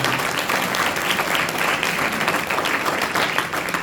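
A church congregation claps together, a loud dense patter of many hands close by that holds steady for a few seconds without speech.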